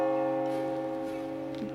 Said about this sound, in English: In the garden area, you can find a huge metal bell, which is an exciting sight to behold.